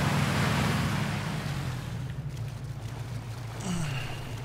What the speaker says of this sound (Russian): тут на лодке что ли плывем?